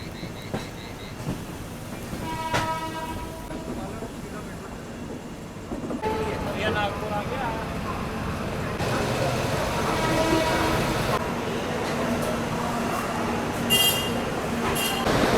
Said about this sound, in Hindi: रिवर्सल लेके हमारी ट्रेन वापस अब जाएगी इस लाइन की ओर